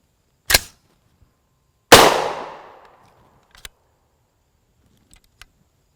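Subsonic 300 AAC Blackout (7.62x35mm) Sellier and Bellot 200gr FMJ rounds fired from an unsuppressed rifle: two loud, sharp reports about a second and a half apart, the second trailing into a decaying echo, followed by faint metallic clicks.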